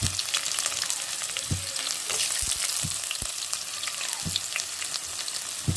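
Thinly sliced onions fry in oil for tomato rice, giving a steady close sizzle with a few sharper crackles and soft stirring clinks throughout, no voices.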